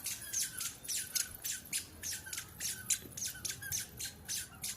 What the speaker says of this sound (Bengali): ওই যে কাক, ক্রো ক্রো ক্রো